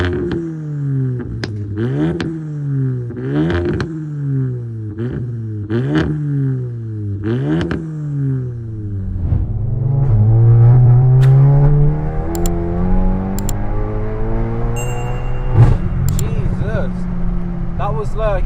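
A 632 bhp SEAT Leon Cupra revs repeatedly in sharp rising bursts, then accelerates away in a long climbing engine drone with a gear change near the end, loud and close, while people talk over it.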